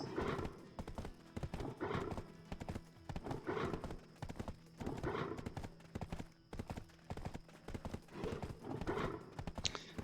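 Horse hooves beat a rhythmic, quick gallop in a Black Desert Online fantasy game, with repeated clip-clop strides that continue steadily at moderate volume.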